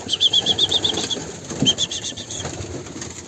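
A burst of wings flapping as several birds take off from a coop close by, followed by faint cooing and rustling.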